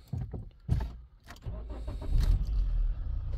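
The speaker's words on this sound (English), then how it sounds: "let's start the engine and warm up the engine." A Toyota Yaris with a semi-automatic robot gearbox cranks in a few short bursts, fires up and settles into a steady, close, low idle.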